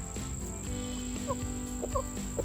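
A young rooster chick gives a few short, high peeps close by against a constant hum and an insect-like drone.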